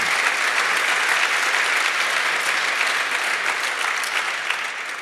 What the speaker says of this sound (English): Thank you for the applause, I love it